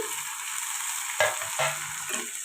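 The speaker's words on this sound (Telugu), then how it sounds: "టమాటాలు అయితే వేస్తున్నాను" Tomatoes dropped into a hot pan of oil for a dried fish curry, giving a loud, steady sizzle with two sharper bursts as pieces hit the oil, no voices.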